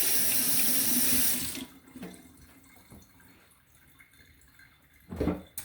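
Tap water runs loudly into a sink while hands are rinsed, then cuts off, leaving a quiet room with a few faint clinks and a brief splash near the end.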